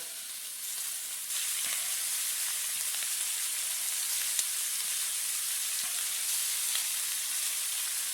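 Shrimp frying in plenty of olive oil in a skillet, a steady close hiss of sizzling with faint crackles throughout, growing slightly louder after the first second, with no talking.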